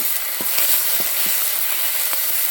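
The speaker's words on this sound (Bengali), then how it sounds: "এখানে আমি পেঁয়াজ বাটা দিয়ে দিলাম।" Onion paste fries in hot oil with sugar, a steady crackling sizzle with a few soft stirring knocks. No voices over it.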